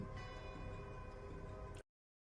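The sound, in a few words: bell tolling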